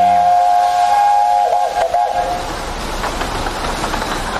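A steam train whistle sounds loud and close in one sustained blast that breaks off after about two seconds, followed by hissing steam and rumbling rail noise.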